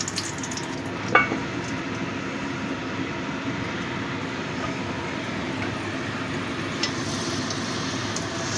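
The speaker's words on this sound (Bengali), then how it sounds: "ফোড়নটা একটু ভেজে নিচ্ছি।" Whole garam masala spices sizzling in hot oil in a pan, a steady, even crackle and hiss running throughout, with a couple of brief louder pops near the start and later on.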